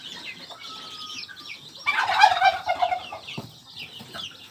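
Newly hatched chicks in a warmed brooding pen give high, thin peeps and chirps that rise into a louder cluster of calls midway, close by and with no voices.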